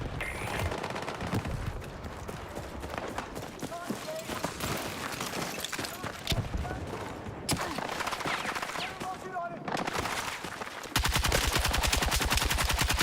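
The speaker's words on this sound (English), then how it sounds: "My gun's not shooting straight." Rapid automatic gunfire from an online shooter game fills the scene in repeated loud bursts, with dense crackling shots over game effects and a player talking throughout.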